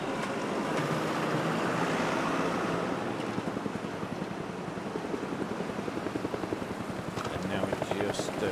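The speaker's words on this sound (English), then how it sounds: "The helicopter up overhead at the moment, just still watching those riders coming around the side." A helicopter hovers overhead during a Zwift virtual cycling race, giving a steady broadband rotor wash with a faint chopping pulse that holds at an even level throughout and has no talk over it.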